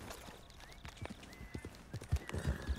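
Hooves of a ridden horse in Red Dead Redemption 2, a steady clip-clop of footfalls growing louder and closer over a few seconds, with a faint whinny-like tone and ambient wind behind.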